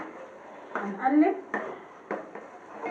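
A spoon scrapes and clanks against a cooking pot as tomatoes are stirred, several short metallic knocks in an uneven rhythm, with a voice talking over parts of it.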